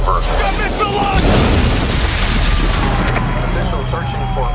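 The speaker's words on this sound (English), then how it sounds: "There has been an explosion." A big boom from an explosion in the White House Down movie trailer rumbles beneath dramatic music and layered news-style voices.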